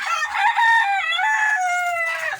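A rooster crows loudly and close among free-range native laying hens kept in a colony coop, one long drawn-out call with a rising and falling pitch.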